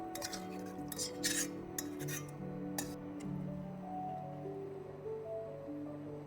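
A spoon faintly clinks and scrapes while stirring moong dal and jaggery in a pan for a Kerala payasam. The strokes are clustered in the first half, quiet and close, over a soft tonal background.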